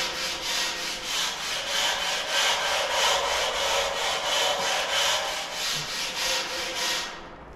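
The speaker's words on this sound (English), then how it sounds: "What I'm using is a wire brush." A wire brush scrubs back and forth over bed-liner coating on a trailer box during restoration prep, a steady rhythmic scratchy rasp that pulses evenly and stays loud and close throughout with no talking.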